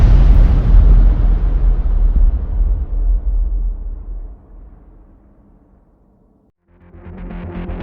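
A huge, deep cinematic explosion bursts at full loudness, then its rumble slowly fades to near silence over several seconds before a new low ambient drone rises.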